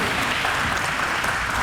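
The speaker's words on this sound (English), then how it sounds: "let's give them a round of applause for being here" Audience members at a Nashville Metro Council at-large debate clap together in a brief, even round of applause, moderately loud and unbroken.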